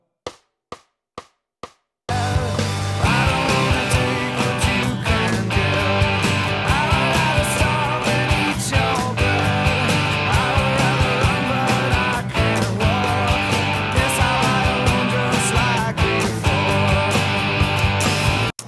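Electric guitar strums the chorus chords of a song along with a loud full-band recording, entering after four short count-in clicks and running steadily to the end.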